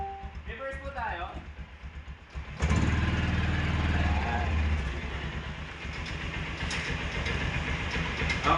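Kazuma Jaguar 500cc 4x4 ATV with stock exhaust idling and then revving as it reverses, a steady mechanical engine rumble that jumps louder partway through, with a person talking early on.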